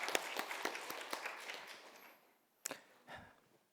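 A congregation applauds in a Sunday church service, with a burst of many hands clapping that fades out after about two seconds, followed by a few scattered isolated claps.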